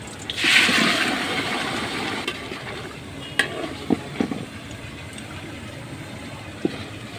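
Raw chicken tipped into a pan of oil with lightly fried cashews and almonds for restaurant-style biryani, a sizzling rush at first, then steady frying hiss with a few sharp clicks of a spoon stirring.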